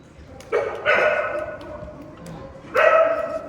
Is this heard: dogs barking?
yes